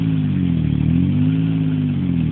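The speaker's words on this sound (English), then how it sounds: "Yamaha Rhino, customized with a Geo Metro engine and powertrain" A Yamaha Rhino 4x4 UTV fitted with a Geo Metro engine and powertrain revs steadily close by, a buzzy mid-pitched drone holding an even, continuous tone without pause.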